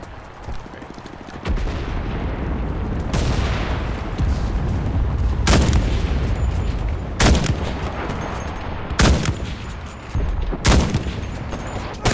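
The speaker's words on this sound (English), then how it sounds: "I'm putting a whole clip in this guy." Gunfire in the World War II shooter Enlisted: repeated loud, close gunshots crack at irregular intervals over a continuous roaring battlefield rumble.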